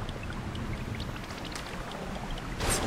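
A raft moving on water in the video game Zelda: Tears of the Kingdom, with continuous splashing and rushing flow, steady and fairly close, a brighter splash near the end.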